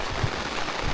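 Heavy rain pours down outdoors in a steady, dense hiss that stays constant and fairly loud with no other sounds.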